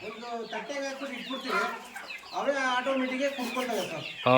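Hens cluck and croon nearby in drawn-out, warbling calls, one hen's voice rising and falling in two long phrases with a short pause between.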